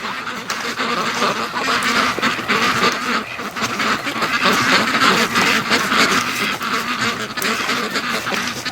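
Muscovy ducks quacking on a duck-raising homestead in the morning, a busy flock giving dense, overlapping, continuous calls that stay loud and close throughout.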